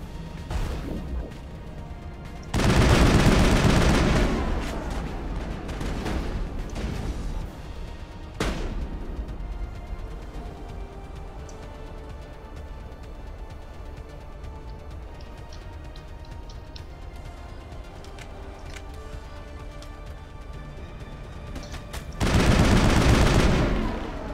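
Gunfire in the Mass Effect video game, with loud bursts at the start and end and sharp single impacts between, over lower background game sound.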